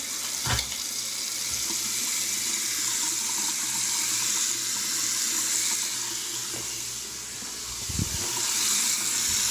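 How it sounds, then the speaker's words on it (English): Water runs from the tap into a bathroom sink that is filling, a steady broad rushing splash held throughout, with a couple of low bumps, close and alone without speech. "we got the sink filling up"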